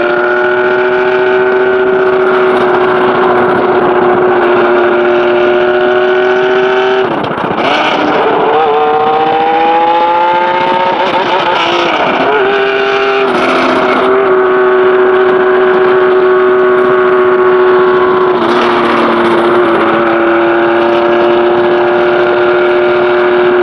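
A 1286cc Kawasaki Z1300 motorcycle engine runs loud and close, a steady multi-cylinder drone with several throttle blips that rise and fall in pitch before settling back to a strong idle.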